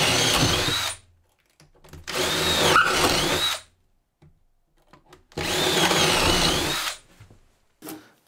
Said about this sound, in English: I'm now going to drill through the center points with a normal drill